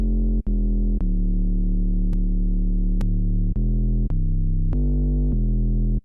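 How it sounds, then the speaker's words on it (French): Synthesized bass from an FMFM wavetable synth: a sustained, buzzy low tone steps through a sequence of held notes with short gaps between them, loud and alone. "Et on a un son de basse qui est ce qu'il est, certes, mais c'est un son de basse."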